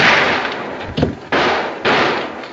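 Several loud bursts and cracks of fireworks go off in quick succession, each followed by a broad hissing roar that fills the space.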